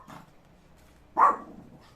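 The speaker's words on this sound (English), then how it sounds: "Excuse my dog." A single pet dog lets out one short, muffled bark somewhere in a quiet room, preceded by a faint softer sound.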